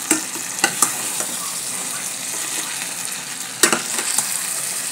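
Odika wild mango kernel paste melts and sizzles in a hot pot, a steady close frying crackle with a few sharp scraping clicks from stirring.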